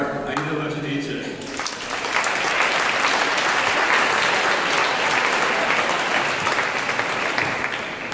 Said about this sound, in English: please bring a loud round of applause for Aida Lajadice.